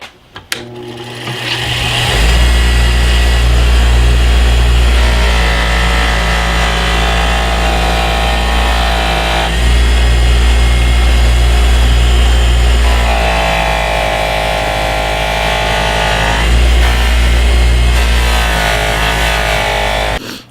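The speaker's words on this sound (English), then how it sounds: "I'm just going to throw it on the felt wheel with a little bit of compound on the bench grinder" A bench grinder fitted with a felt polishing wheel buffs a Sorby drawknife blade with compound. It gives a loud, steady motor hum and whine for about twenty seconds, shifting tone as the steel presses against the wheel.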